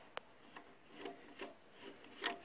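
A wrench turns an 8 mm terminal nut on the alternator of a Citroën Xsara in the engine bay, giving a sharp click and then a quiet series of evenly spaced ratcheting scrapes, close and faint with no voices.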